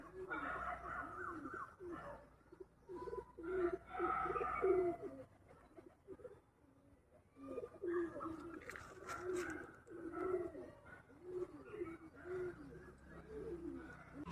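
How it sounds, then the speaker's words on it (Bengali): Two young Chennai-line eye pigeons coo softly and closely in repeated low, throaty bursts, pausing briefly midway before resuming, with no talking. "চেন্নাই লাইনের চোখের পায়রার বাচ্চাই দুটো"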